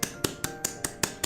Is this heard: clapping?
yes